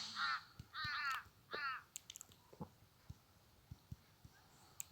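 A crow caws three times in quick succession, loud and harsh, in the Build a Bridge video game, followed by scattered soft clicks and taps in an otherwise quiet scene.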